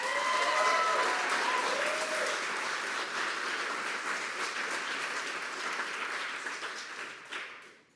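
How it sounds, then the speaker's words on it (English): A hall audience at a startup demo day breaks into sustained, dense applause, loud and steady for most of the stretch before tapering off and fading out near the end. "So a round of applause for those guys."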